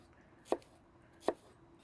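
A knife dices an onion on a cutting board, two crisp, separate chops about three quarters of a second apart over quiet background.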